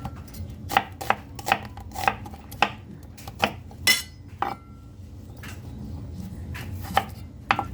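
Half an onion chopped with a knife on a cutting board in a home kitchen: about a dozen sharp, evenly spaced knocks of the blade, close and clear, with soft rustling between strikes and no talking.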